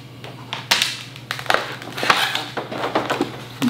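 Sticky vinyl wrap film being peeled back from a car panel, a series of short crackling, tearing bursts at an uneven rhythm over a faint low hum, close and fairly loud.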